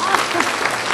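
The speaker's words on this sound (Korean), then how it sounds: "우리 권사님 박수 한번 쳐요" A church congregation applauds a deaconess during a sermon, a brief burst of dense, close clapping with voices mixed in.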